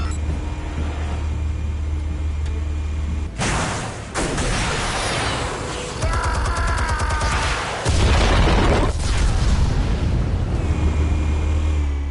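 A loud explosion from armed explosives in a Batman scene, a sudden heavy boom around the midpoint followed by rumbling debris and chaotic noise, over a continuous low roar with dramatic score throughout.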